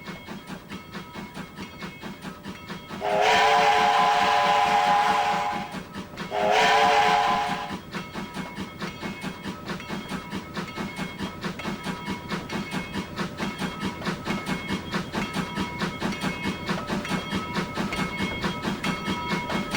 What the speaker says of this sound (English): large steam locomotives like this one leave the roundhouse ready for the day's work